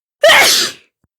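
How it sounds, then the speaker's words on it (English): A single loud, sharp sneeze bursts out close by, then cuts off into silence. "I actually engulfed a ton of pepper to reenact that sneeze"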